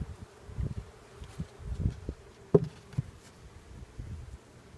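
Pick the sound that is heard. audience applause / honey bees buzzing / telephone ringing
honey bees buzzing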